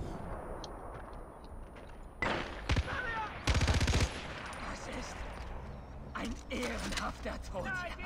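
Turret gun fire in Far Cry 4, loud rapid bursts in short clusters separated by quieter stretches of game noise, with someone speaking German in between.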